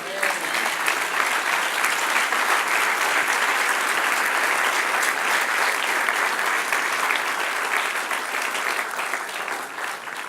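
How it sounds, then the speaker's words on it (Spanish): Church congregation applauding during a sermon, dense sustained clapping from a large crowd, loud and even for about ten seconds, tapering slightly toward the end. "Dale aplauso al Señor."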